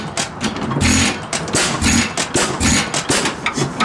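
A 1916 antique 16-horsepower engine fires in a rapid, uneven run of loud, close thumping pulses.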